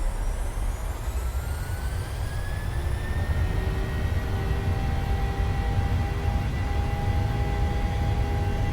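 Boeing 737-700 jet engines in Microsoft Flight Simulator spooling up to takeoff thrust, a loud continuous roar with whining tones that climb in pitch and then hold steady, with no voices.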